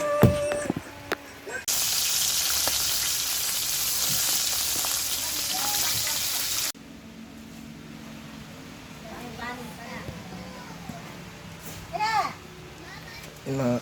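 Freshly caught fish frying in a pan, a loud dense sizzle for several seconds before a cut to quieter outdoor sound where children and other voices talk and shout.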